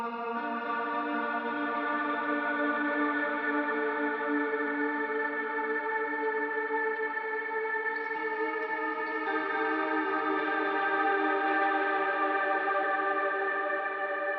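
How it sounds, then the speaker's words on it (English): Clean electric guitars ring out in sustained, shimmering chords washed in heavy reverb, steady and alone, in a shoegaze song. "They're just clean guitars drenched in reverb."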